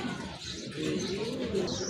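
Large pigeons coo steadily at close range among other birds, with a dense, continuous murmur of cooing that has no clear gaps.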